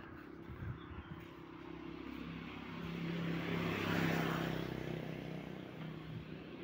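A distant Lion Air airliner departing Sultan Mahmud Badaruddin II airport in Palembang drones steadily outdoors on a foggy morning, swelling slightly louder midway then easing off, with low rumbling engine noise and no talking.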